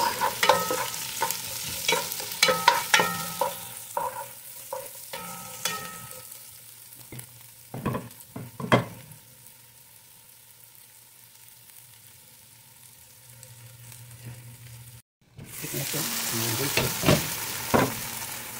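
Onions sautéing over high heat in a pan for sinigang na tanigue, with stirring scrapes and clatters at first, then a quieter stretch before a louder burst of frying near the end.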